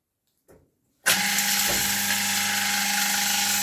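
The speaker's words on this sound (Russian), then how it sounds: "Это работает пергомет." A beebread extraction machine switches on abruptly after a brief click, then runs with a steady, loud, high-pitched mechanical whine and hum that continues without a break.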